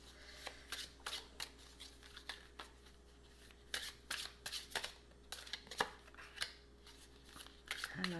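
Tarot cards being shuffled for a reading, a run of crisp riffling bursts and soft slaps at an uneven pace, close and fairly quiet, with no talk over them.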